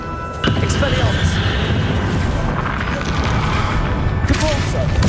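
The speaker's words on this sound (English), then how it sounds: "Expelliarmus" Expelliarmus spell cast during a Hogwarts Legacy battle, a sudden booming magical burst followed by sustained roaring, crackling combat effects, loud and dense with a voice speaking over it.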